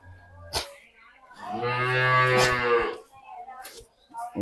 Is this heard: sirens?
no